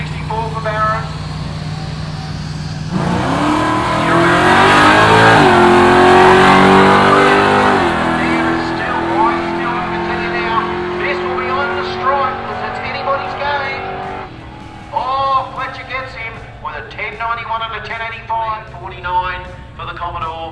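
A Holden Commodore and a Ford Cortina launch in an old-school drag race at the Willowbank Street Series, their engines roaring loudly and revving high before fading off down the strip, with an announcer talking over the noise.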